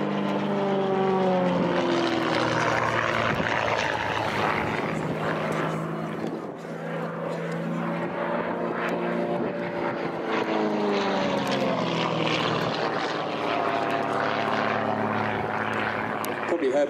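Propeller aeroplane performing an aerobatic display at Sywell airshow, its engine droning loudly and continuously with a pitch that rises and falls through manoeuvres, a commentator's voice over it.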